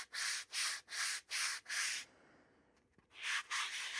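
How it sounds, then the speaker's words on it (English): Five rhythmic strokes of 120 grit sandpaper rub across the skin of a leather strop, each a loud, close scratchy swipe, then a brief pause and a couple more strokes. "take like a 120 grit sandpaper here and just go over"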